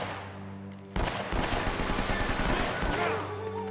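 Rapid video-game gunfire from Uncharted: Drake's Fortune erupts after a short lull, a sustained burst of overlapping shots over steady background music, fairly loud and dense before easing near the end.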